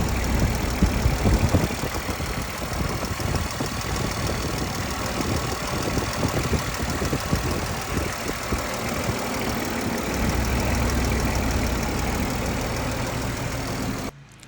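An old Ford Mustang engine idles steadily and close up, a continuous rumble with a faint repetitive ticking that may be a lifter, running alone until cutting off at the end.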